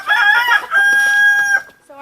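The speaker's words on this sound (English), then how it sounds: "a hen and a rooster" A rooster crows loudly and close by, one long drawn-out call, with hens clucking around it and a short squawk at the end.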